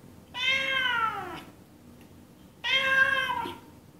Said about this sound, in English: A cat sounds like this.